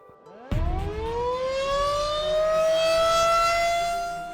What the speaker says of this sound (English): At about 5:30, the sirens went off.